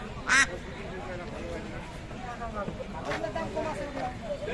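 A duck quacks once in a short nasal burst early on, against a murmur of crowd noise and distant voices at a market selling ducks.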